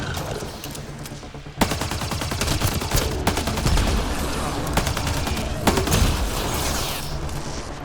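Dense automatic gunfire in Mass Effect Andromeda rattles almost continuously, loud and close, with a few heavier bursts layered over the stream of shots.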